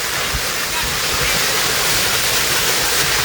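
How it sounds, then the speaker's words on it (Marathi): A tall waterfall plunging from about 5000 feet gives a loud, continuous, broadband roar of crashing water that fills the whole clip without a break. "सुंदर असा धबधबा"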